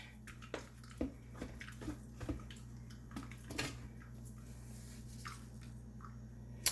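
Soursop juice straining through a cloth, with faint, scattered drips and small splashes over a quiet background hum, close and soft.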